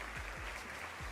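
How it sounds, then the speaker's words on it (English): Applause in a talk show setting, a dense wash of many hands clapping at moderate distance, continuous and even for about a second with no voices over it. "Go ahead and give you some hand claps on that"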